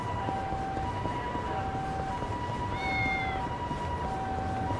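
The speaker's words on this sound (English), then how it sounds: "I just heard a cat." A cat in the video game Yakuza: Like A Dragon gives a single drawn-out meow partway through, fairly faint beneath a steady ambient bed of tonal hums.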